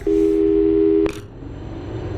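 A steady telephone call tone sounds in the video game Portal 2, a loud continuous hum that cuts off abruptly with a click, followed by quieter background noise.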